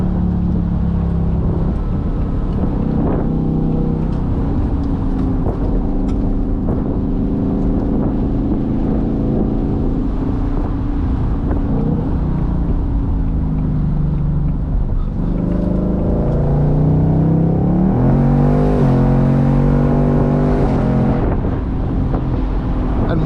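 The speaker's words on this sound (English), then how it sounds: "In sport mode, you can hear it downshifts automatically for you when it detects some sportier driving." A 2024 Ford Mustang GT convertible with its 500 hp V8 and 10-speed automatic drops gears on its own in sport mode, the engine note rising and falling steadily with wind rush over the open top and no talk.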